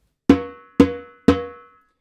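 Three open-tone hand strokes on a timbal, each a sharp ringing metallic-edged drum hit that decays quickly, evenly spaced about half a second apart, close and clear with no talking.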